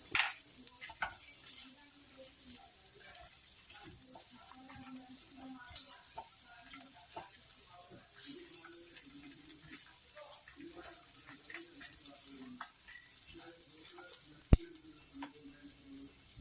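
Carrots, beans and chopped cabbage sautéing in a pan for lemon fried rice, a low steady sizzle with irregular stirring scrapes and one sharp clack, fairly quiet and close.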